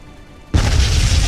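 A sudden deep boom as a ship is shot down and explodes in the video game Halo Reach, followed by a sustained loud, rumbling roar that fills the rest of the moment.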